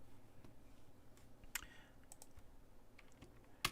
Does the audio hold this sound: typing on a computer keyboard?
yes